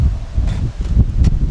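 Gusty wind outdoors, a low rumble with a few brief rustling bursts on top, steady and fairly loud with no talking.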